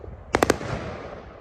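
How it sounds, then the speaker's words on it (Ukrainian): Three sharp fireworks bangs in quick succession at a Remembrance Day celebration in England, loud and fairly close, followed by a lingering crackling wash as the blasts fade. "по-своєму відмічають цей день такими яскравими феєрверками."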